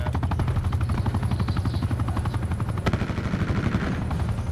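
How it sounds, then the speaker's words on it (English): An attack helicopter killstreak in a shooter video game hammers away with steady, rapid machine-gun fire over a constant rotor drone, loud and dense throughout. "My chopper's going off on these guys."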